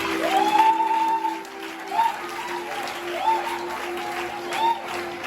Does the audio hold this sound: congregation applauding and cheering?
yes